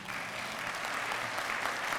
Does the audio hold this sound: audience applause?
yes